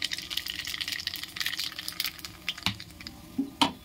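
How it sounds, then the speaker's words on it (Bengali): Nigella seeds (kalonji) dropped into hot oil for a banana stem paste dish, giving a bright, crackling sizzle that is busiest at first and then thins into scattered pops, close and fairly quiet, with no talk. "তো দেখো তেলটা গরম হয়ে যাচ্ছে, আর এই যে তেলের মধ্যে আমি এই যেগুলো কালি জিরাগুলো দিয়ে দিচ্ছি তেলের মধ্যে"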